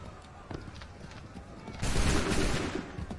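Musket volley from the video game Assassin's Creed III: a loud, dense burst of gunfire erupts partway through, layered over battle ambience with shouted commands and horse sounds.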